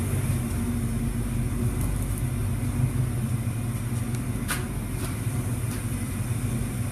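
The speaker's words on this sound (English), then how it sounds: "Good to hear the old car run." An old 1967 car engine runs at a steady idle, a low continuous rumble with faint ticks and clicks over it, close by and without speech.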